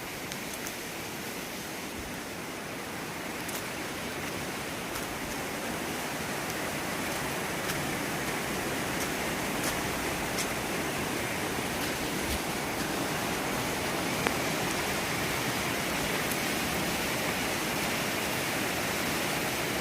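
Continuous rush of a flooded river near Kolamb bridge, an even wash of water noise holding steady throughout, no speech.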